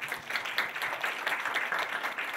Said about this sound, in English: Please invite the both of them with a big hands of applause.